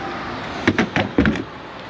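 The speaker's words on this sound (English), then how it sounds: "Now to remove this door" Door of a 1980 Rockwood Freedom camper lifted off its hinges, giving a few close, sharp clunks and rattles in quick succession against quiet background.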